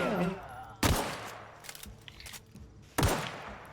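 Enemy gunfire in a video game, two sharp loud shots a couple of seconds apart with quieter rattling and scattered pops between, a voice briefly audible at the start.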